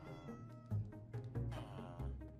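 Cat meowing in Minecraft, game-world cat sounds rising in a few short calls over steady background game music, fairly close and moderately loud.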